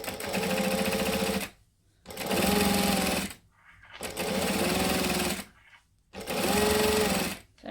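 A sewing machine stitches fabric in four steady bursts of rapid whirring, each about a second and a half long, separated by short pauses while the seam is pivoted and the raw edge tucked under.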